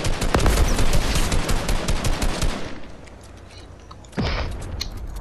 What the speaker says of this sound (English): Start shooting at him, start shooting at him.